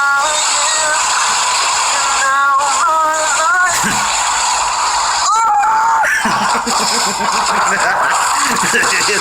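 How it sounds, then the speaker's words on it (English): Inside a car during a rolling crash, a man lets out repeated rising and falling screams amid thumps and jolts, with other voices talking loudly around them. "His scream was so funny."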